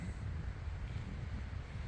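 Strong, frosty wind on a snowy mountain trail buffets the microphone in a continuous low rumble, gusting slightly without pause.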